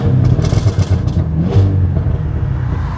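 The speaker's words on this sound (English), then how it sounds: "Oh, I love those backfire pops." A 2022 Cadillac CT5-V Blackwing with a manual gearbox, parked in track mode, revs hard with rumbling surges and a few crackling backfire pops, loud and close.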